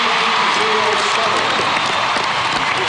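A packed arena crowd at the 2006 World Figure Skating Championships ice dance free dance applauds steadily and loudly throughout, a dense wash of clapping and cheering with a commentator's voice faintly underneath.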